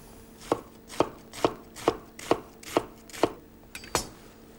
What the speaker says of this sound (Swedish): Skivar vi rödlöken.